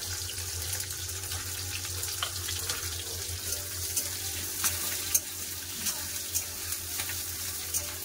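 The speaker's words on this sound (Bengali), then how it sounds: "এবার এই তেল আছে, তেলে দিয়ে দেবো পেঁয়াজ, রসুন, আদা, দুটো কাঁচা লঙ্কা" Onion, garlic, ginger and green chillies fry in oil with a steady, moderate sizzle. Occasional small pops and clicks break through, with a low background hum and no speech.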